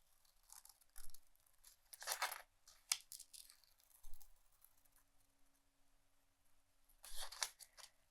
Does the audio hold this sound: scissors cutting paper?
yes